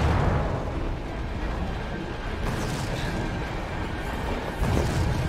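A big explosion in the video game Resident Evil 2 Remake erupts as a loud, sustained rumbling blast that stays dense for several seconds, with a fresh burst near the end and no speech.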